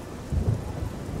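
Rain patters steadily at night outside a house in the video game Oblivion, with a low, brief rumble of thunder swelling underneath.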